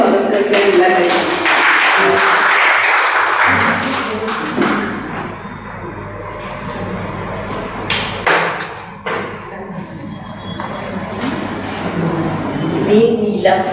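An audience claps to welcome a speaker at a members' event, a dense burst of applause for several seconds that fades into scattered taps, thumps and people talking.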